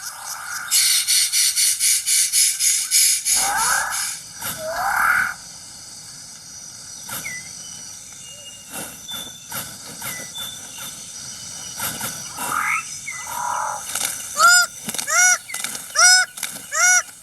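Birds of paradise calling in a New Guinea forest: loud repeated honking and croaking calls, then quieter scattered notes and a run of rising whistled calls near the end, over a dense buzzing background.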